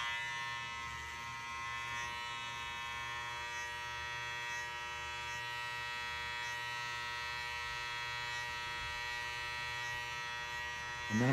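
Electric hair clippers buzz steadily while cutting a taper on a men's modern mullet, a close, even motor hum with no talk over it.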